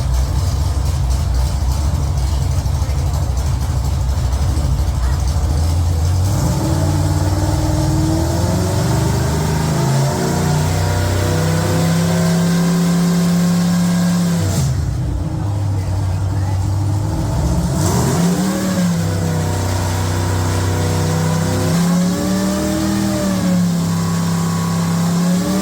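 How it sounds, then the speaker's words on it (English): A car engine revs loudly with the throttle held while its timing is set, its pitch climbing and dropping over and over, with a short lull midway before the revving picks up again. "hold the throttle down while we do the timing"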